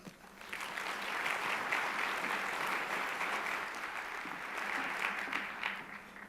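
A room full of people at a Columbus Chamber annual meeting applauds, a dense wash of clapping that swells quickly and holds steady for several seconds before easing slightly.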